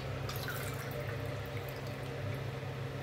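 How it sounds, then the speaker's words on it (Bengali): Three cups of plain water pour into a pot for chicken masala pulao, a steady close splashing stream that keeps a constant level throughout. "তো 3 কাপ দিচ্ছি জল, নর্মাল ওয়াটার।"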